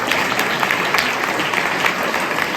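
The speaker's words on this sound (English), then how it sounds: "Let's hear a very big round of applause for all the participants here." Loud, full applause from a school quiz audience honoring participants, dense clapping held at a steady level across the whole stretch without speech.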